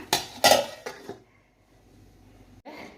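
A metal lid goes down onto a pot of tomato fry with a few sharp clanks and rattles of metal on metal, close and bright, then near silence and a short shuffle at the end.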